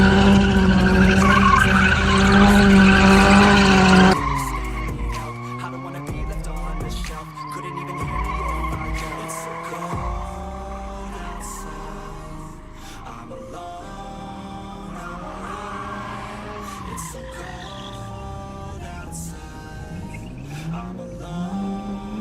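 A BMW F10 drifting on a drift pad, its tires squealing loudly and continuously while the engine revs rise and fall, with a sustained screech first and then wavering squeals.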